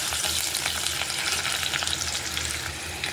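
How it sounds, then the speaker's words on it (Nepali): Onions fry in a pan for an egg and potato curry, a steady close sizzle with faint stirring running unbroken throughout, no voices. "प्याज पनि हाले। हल्का गोल्डन बनाउनुपर्छ।"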